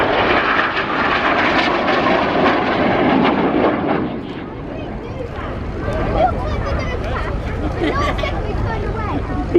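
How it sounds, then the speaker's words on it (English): Military jets make low, fast passes at the RIAT air show, a loud, broad roar swelling and fading over a murmuring crowd while an announcer talks throughout. "at 100 feet with a closing speed of over 700 miles per hour, they will do a series of passes"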